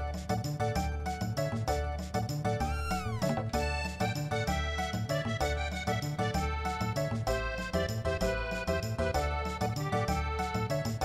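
A cat's meow rises out of busy, continuous background music in the Chrono Trigger video game, the game's melodic score playing steadily throughout with no voices.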